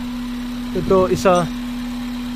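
A car engine idles steadily after its throttle body butterfly was adjusted, giving a constant low hum throughout while someone speaks briefly over it.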